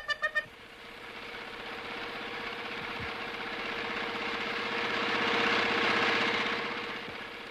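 A tractor engine runs steadily at a low idle-like drone that swells slightly louder toward the end, preceded by a few short horn-like toots at the start.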